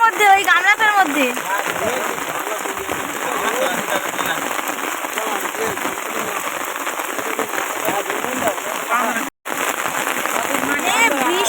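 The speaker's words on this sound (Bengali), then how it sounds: "আর বৃষ্টি হচ্ছে তো নৌকার মধ্যে খুব জল" Heavy rain patters densely on a boat and river in the Sundarbans, a loud continuous drumming with people talking over it throughout.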